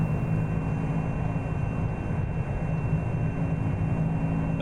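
Aircraft engine idling in the X-Plane 11 flight simulator, a steady low droning hum with a faint constant tone, unchanging and alone, with no talk.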